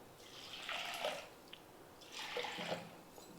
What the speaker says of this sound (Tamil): பருப்பு எடுத்து அதே கப்பில் 2 கப்பு தண்ணி சேர்த்துக்கலாம்